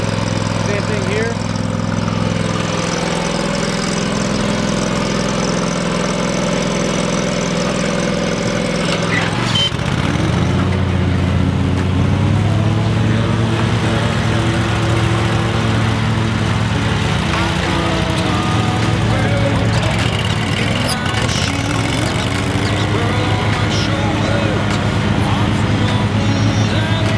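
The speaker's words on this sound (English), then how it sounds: "We're gonna be mowing some tall grass here." A Cub Cadet and an Exmark lawn mower run together while mowing tall grass, their engines droning steadily and loud throughout, with a load change partway, and people talk over them.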